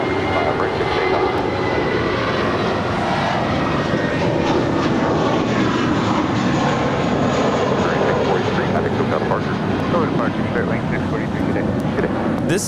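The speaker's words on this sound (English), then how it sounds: "This is Spirit Wings 643 departing to Chicago. It's an A320." A Spirit Airlines Airbus A320 jet takes off from LAX, its engines a steady, loud broadband roar held for the whole span, with faint voices talking beneath.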